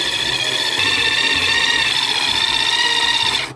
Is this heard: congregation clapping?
no